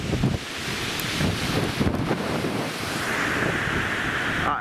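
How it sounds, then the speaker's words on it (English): Wind blows at Routin Linn waterfall, a steady broad rushing roar with gusty buffeting on the microphone, loud and continuous throughout, mixed with the wash of falling water. "Bit windy."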